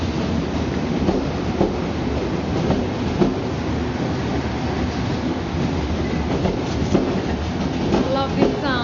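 Swiss and German trains pass in Constance in summer, a continuous close rumble of rolling stock with rhythmic clicks from the wheels over rail joints and a faint squeal toward the end.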